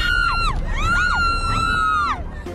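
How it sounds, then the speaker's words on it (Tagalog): On a carnival octopus ride at a fair in Naic, Cavite, riders let out several shrill, sustained screams rising and falling in pitch over a steady background rumble, loud and close. "Ang masayang hiyawan sa peryahang ito sa Naik"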